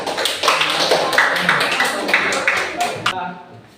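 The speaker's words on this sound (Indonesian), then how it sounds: "Beri aplaus untuk kelompok 3." A classroom group claps for group 3, a dense burst of applause lasting about three seconds before cutting off, with voices mixed in.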